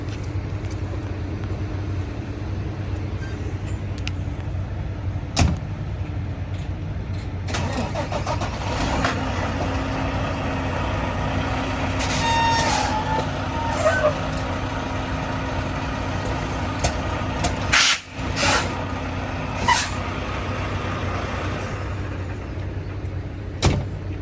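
A truck engine idles and runs with a steady low rumble as the vehicle rolls forward, joined by occasional clanks, knocks and a door-like thud, with no talk.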